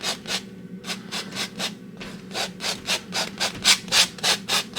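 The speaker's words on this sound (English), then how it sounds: "now I come right up here, and I want to scrape off that dark color" Dark paint is scraped off a canvas with a painting knife in quick, regular strokes, each a short rasping swipe, close and clear with no talking.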